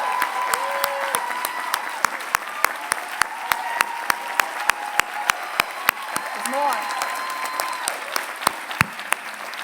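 An audience at a university class day ceremony applauds women faculty, with a soft, sustained bed of clapping under a voice speaking over a microphone, while sharp, regularly spaced clicks punctuate the sound.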